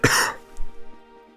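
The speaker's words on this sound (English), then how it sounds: "I have got the arse end of a cough is what I've got" A single harsh, close cough bursts out at the start, then gives way to quiet steady tones from a Zelda: Phantom Hourglass game playing faintly in the background.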